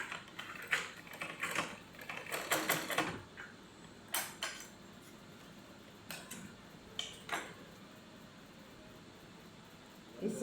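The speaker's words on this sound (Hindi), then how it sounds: "अब इसके हम नीचे के किनारे सिल लेंगे।" A sewing machine stitches the bottom edges of a kurta in short mechanical bursts, with quick ticking runs and pauses between them, close and fairly quiet.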